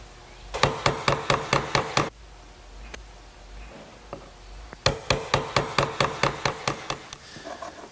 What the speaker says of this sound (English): Now I'll just use a nice sharp chisel to square up the back corners.